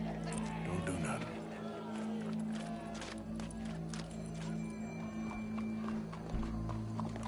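Horse hooves clip-clop at a walking pace over a steady low hum, with voices talking and a crowd murmuring in the background.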